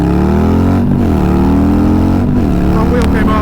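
Harley-Davidson Softail Low Rider S with a 131 Stage 4 engine accelerating hard, a loud, close, continuous engine roar with rising pitch through the pull and a brief shift dip near the end.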